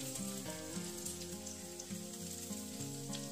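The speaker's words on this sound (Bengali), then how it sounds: "লো ফ্লেমেই এগুলোকে 20-30 সেকেন্ডের মতো ভেজে নেব।" Minced garlic and ginger frying in oil on a low flame, giving a steady, soft, even sizzle that continues without pause.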